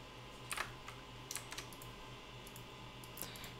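A handful of sharp, light mouse clicks on an installer's next button while setting up Carmageddon 2 on a Windows PC, faint isolated taps spaced irregularly over quiet room hum.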